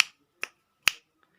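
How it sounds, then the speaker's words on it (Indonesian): Three sharp, crisp hand claps ring out alone and close at an even pace, keeping time for a children's chant. "mari kita mulai dengan tepuk tangan surat An-Nas"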